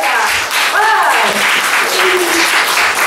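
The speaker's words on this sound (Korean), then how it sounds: "박수 받으려고 했던 거 아닌데" Dense applause from a church congregation in Seoul fills the whole moment, with a voice speaking briefly over the clapping.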